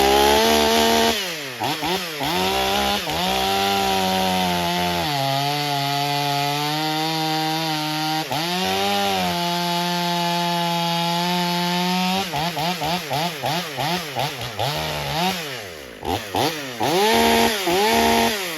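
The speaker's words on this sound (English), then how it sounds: "let's put the bar on the other chainsaw and let's see" A stock Stihl MS500i chainsaw with a full wrap handlebar, spark arrester and a new piston not yet broken in, cutting wood. The engine screams steadily through long cuts and drops and revs between them, loud and close, with no talk.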